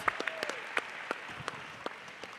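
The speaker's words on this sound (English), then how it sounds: "Can we give the young people in the room a round of applause?" Applause from an audience honoring young people at a family and community gathering, sparse scattered claps at moderate distance, fairly quiet and thin, with no talk over it.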